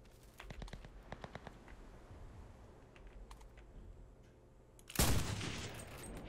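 Bursts of gunfire crackle in the Cuisine Royale video game, a rapid spread of sharp shots at a distance followed by one louder close blast near the end, set against steady background noise.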